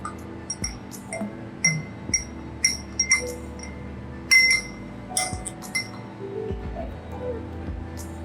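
A spoon stirring a blend of essential oils in a small glass, producing a quick series of light, bright clinks at uneven intervals, close by and fairly soft.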